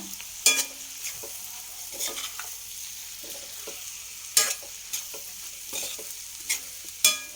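Boiled egg pieces are stirred into rice in a pan, the spoon scraping and clinking in a few sharp, separate strokes over a faint background sizzle, with no voices.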